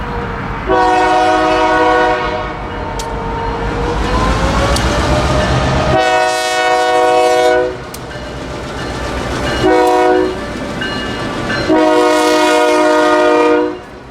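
A Florida Central freight train roars past at speed, sounding its horn in several long, loud blasts over the rumble and rattle of the cars.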